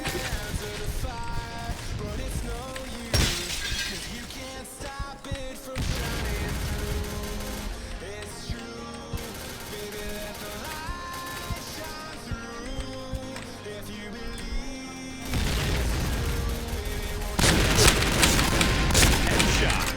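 Video game gunfire and explosions: bursts of rapid shots and heavy booms repeat throughout, loud and close, with excited talk over the top.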